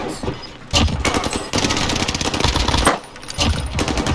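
Rapid bursts of video game gunfire rattle in dense, loud volleys with brief gaps, sounding close and continuous across the moment.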